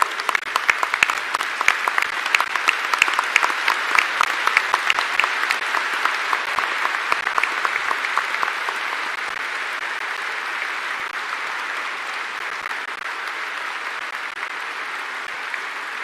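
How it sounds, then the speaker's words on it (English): An audience at a spirituality festival at Kanha Shanti Vanam gives the Vice President sustained applause. The clapping is dense and close at first, then slowly thins and fades into a softer, steady patter. "Let us give him a huge round of applause."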